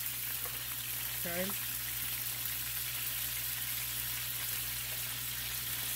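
Chicken browns in a frying pan with a steady, dense sizzle that holds evenly throughout; a voice briefly says a word near the start.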